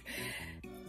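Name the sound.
coughing from vaping a cartridge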